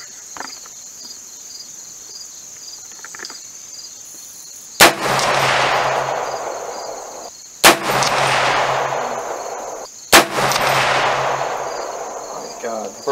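AR10 rifle in 7mm-08 firing 139 grain rounds at 100 yards: three loud, sharp blasts spaced a few seconds apart, each with a long ringing tail, over a steady hum of insects outdoors.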